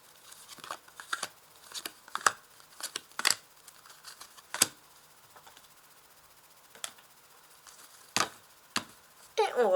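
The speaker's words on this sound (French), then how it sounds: "Alors, je vais placer les cartes." Tarot cards set down and handled on a table, giving a string of sharp, dry slaps and flicks at irregular intervals, close and fairly quiet, with short rustling between them and no voice.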